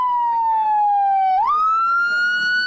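A vehicle's wang-wang siren wails loud and close, one long tone gliding down, then snapping up and holding high, alone with no talk over it.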